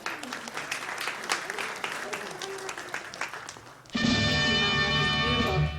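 Guests applaud at a baby shower, a steady wash of clapping under scattered voices, then abruptly replaced by sustained music with a strong tonal hum for the final stretch.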